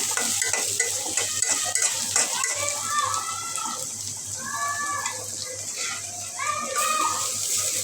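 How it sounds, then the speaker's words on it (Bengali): Onions and green chilies frying on a stove, a close sizzle with stirring and scraping in the pan while a voice talks over it. "পেঁয়াজ কাঁচামরিচ দিয়ে নিছি চুলায় ভালোভাবে বাজিয়ে নিই"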